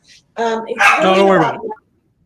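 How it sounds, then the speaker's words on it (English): A pet dog gives a quick run of barks and yelps, close and fairly loud, the harmonic yaps climbing and falling across about a second and a half before trailing off into quiet. "I'm sorry about my dog."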